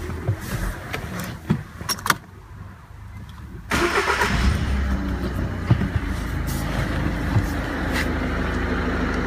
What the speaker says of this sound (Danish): Så lad os starte motoren først.